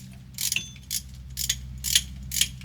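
Metallic ratcheting and clinking bursts from tightening nuts on a Toyota Land Cruiser differential, five short spaced clusters over a low steady hum, close and moderately loud, no talk.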